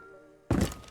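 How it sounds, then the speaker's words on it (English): A hatch is dropped open in Rainbow Six Siege, a quiet stretch broken halfway by a sudden loud thunk and crashing debris, followed by a second impact at the end. "If you hear someone clearly drop a hatch which sounds like this,"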